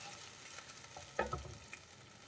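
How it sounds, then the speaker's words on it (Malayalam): Kashmiri dum aloo gravy bubbles quietly in a pan with a faint simmering sizzle, broken by a brief clatter of a utensil near the middle. "ഇനി ഇത് നന്നായിട്ടൊന്ന് തിളക്കട്ടെ."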